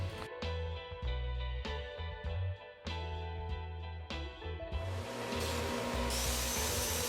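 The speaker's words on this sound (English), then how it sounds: "and I start sanding the outside." Sandpaper rubs against a segmented woodturned vase with copper inlay spinning on a lathe, a steady motor drone under repeated scratchy sanding strokes that turn to a continuous loud hiss near the end.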